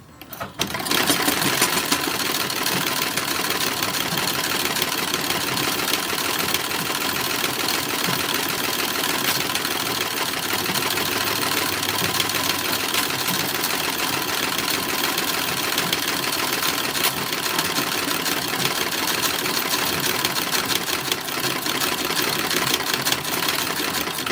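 Sewing machine stitching trim onto the collar of a 1930s-1940s style toddler romper, a steady, continuous close mechanical whir that runs unbroken at even loudness throughout.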